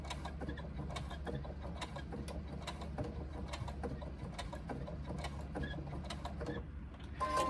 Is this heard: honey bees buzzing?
no